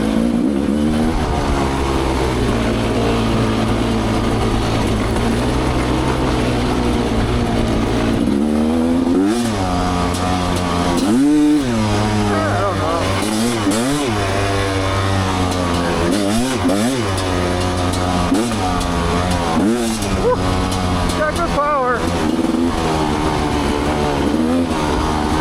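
An off-road motorcycle engine works hard climbing an uphill ORV trail near Kalkaska, Michigan, droning loud and close, then rising and falling in repeated revs as the throttle changes.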